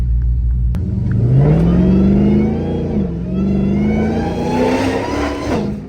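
A Dodge Challenger SRT Hellcat at night revs hard, its supercharger whining in a rising, sweeping tone over a deep engine roar, loud and close throughout, easing and climbing again.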